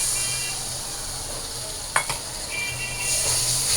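Ground turmeric, chili, ginger, garlic and green chili paste sizzling steadily in a hot pan, with a brief clink of a utensil midway and a continuous frying hiss throughout.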